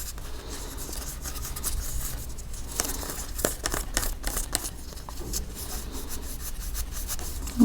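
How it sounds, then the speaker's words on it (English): A Pro Polish pad rubbed over a wire bracelet, producing a soft, close scratchy rubbing in repeated strokes that continues steadily, with occasional small clicks. "I'm just going to start polishing"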